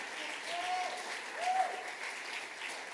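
Audience applause at a high school awards ceremony for senior council students, continuous crowd clapping with a couple of brief whistles or cheers rising above it.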